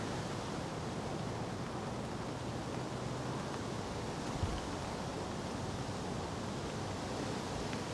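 Gusty wind swirls across a lake at a fishing match, a steady, muffled rush buffeting the microphone for the whole stretch, with no voices.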